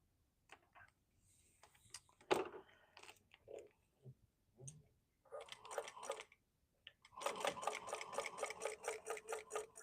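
A sewing machine stitches a tote bag in short starts at first, then runs in a steady rapid pulsing whir close by, with quiet handling clicks between bursts.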